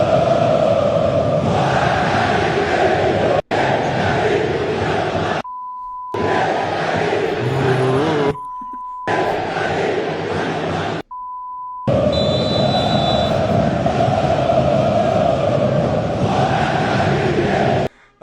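Stadium crowd at São Januário roaring and chanting hostilely at coach Carille during a Vasco match, a dense sustained mass of voices broken by a few brief silent cuts with short beep tones.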